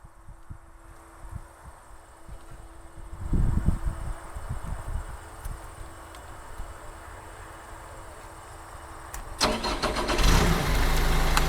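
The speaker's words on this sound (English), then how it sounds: "I'm going to start her up one more time." A machine engine with a seat-belt interlock on its parking brake cranks and turns over, then settles into a rumbling idle before a louder, rougher surge of running noise near the end. It sounds close, with no talking.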